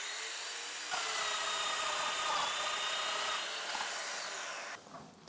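A Festool Domino joiner set to 25 mm depth plunges into a wooden board to cut a mortise, giving a fairly quiet, steady high motor whine for about four seconds before winding down.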